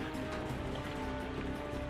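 Heavy rain keeps pouring steadily in Uttarkashi, Uttarakhand, a dense, even hiss of downpour on surfaces, faint and continuous with no voices.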